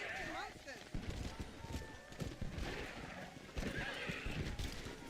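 A horse in Red Dead Redemption: Undead Nightmare whinnies loudly and close, with clip-clop hoofbeats and a second neigh later on, all under a talking voice.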